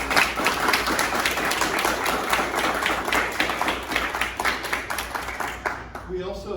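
Audience at a Rotary International event in a school clapping to welcome a guest, brisk overlapping claps that hold steady before tapering off, with a voice starting up at the end.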